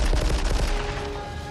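A rapid burst of loud movie gunfire from Die Hard rattles close, several shots in quick succession before fading into a dull rumble.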